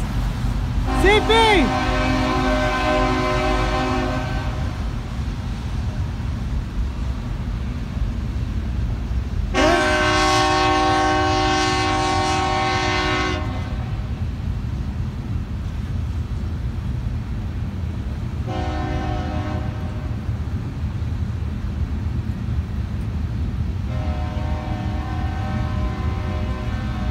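Canadian Pacific locomotive 7015 hauls a southbound manifest freight past a trackside spot in Magnolia, Texas, sounding its horn in several long blasts over a steady low rumble of rolling cars, with people talking nearby.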